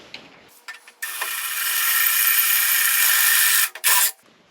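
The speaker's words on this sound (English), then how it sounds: "Okay, so we'll drill that hole out." A drill bores out a hole in a part for a John Deere 1025R snowblower chute actuator, giving one loud, close, steady whir that lasts about three seconds between short clicks, with no talking.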